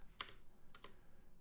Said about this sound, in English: Maybe next thing I'll get is a keyboard that's not so loud and difficult to type on.